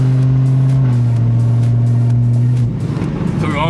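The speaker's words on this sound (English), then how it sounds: "I know my exhaust is pretty loud. I do have straight pipes" A BMW E9x M3 with straight pipe exhaust drives along, its loud, droning engine note heard up close from inside the car, holding steady, then dropping in pitch before the revs shift near the end.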